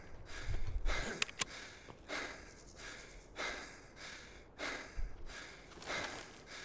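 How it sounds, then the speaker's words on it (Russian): A player character panting out of breath in the STALKER video game, with repeated heavy breaths and snorting exhales in a steady rhythm. Quiet and close, with a couple of sharp clicks early on. "А чё я так запыхался?"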